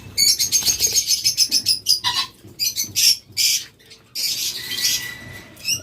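Locally bred violet lovebirds chirp and squawk loudly and close, in rapid shrill bursts and rattling trills broken by short pauses, with no voices.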